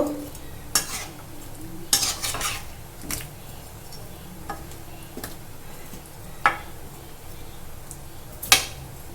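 Potatoes with Kashmiri chili are stirred in a chicken curry pan, with irregular scraping and clinking strokes of a spoon over a soft sizzle, close and moderately loud.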